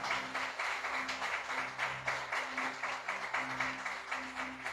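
A church congregation applauds during a worship service, a faint, rhythmic patter of many hands clapping heard from a distance, with a low hum beneath.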